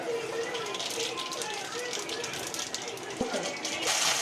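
Mustard seeds and urad dal spluttering in hot oil for red chutney, a dense, steady crackle and fizz of popping close by, with a sharper pop near the end and no voice.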